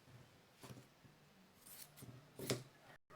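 Scissors snip through folded fabric to cut out a sewing sleeve, with a few quiet, separate cuts and a sharper, closer snip near the end.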